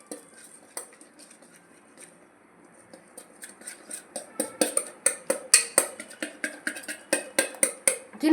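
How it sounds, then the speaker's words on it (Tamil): A spoon or spinner scrapes and clinks against a bowl while a cooking mixture is stirred, starting sparse and faint, then becoming a steady, loud rhythm of sharp metallic taps. "இப்போ வந்து நம்ம வந்து ஸ்பின்னர் கொண்டு வந்தாச்சு. எடுத்து சுற்றி விட்ருவோம்."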